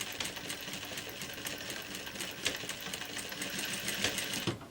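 A domestic sewing machine backstitches a dress seam, running back and forth in a steady, close mechanical whir that continues without a break.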